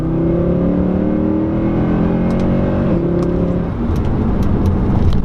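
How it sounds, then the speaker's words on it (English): A 2014 Mercedes C63 AMG pulling hard through its gears, with a loud, close engine note that climbs in pitch, drops at a shift and then climbs again, carrying a steady rumble and no talk. "Going through the gears in this thing is so much fun"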